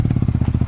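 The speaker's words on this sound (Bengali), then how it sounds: "আমার বাইকের শব্দ শোনা যাচ্ছে" A motorcycle engine runs close by in a brief burst, with a steady, rapid, low throbbing beat and no talk.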